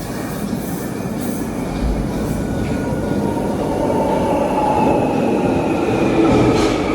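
A London Underground train at Green Park station during rush hour, a loud continuous rumble of rolling wheels with rising metallic squeal and clatter that builds steadily, heard alone without talk.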